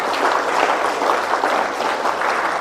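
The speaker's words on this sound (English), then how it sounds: "a big round of applause to all the 27 TED speakers" Steady, dense audience applause for TED-Ed student speakers at an event, a continuous wash of many hands clapping at even loudness throughout with no pauses.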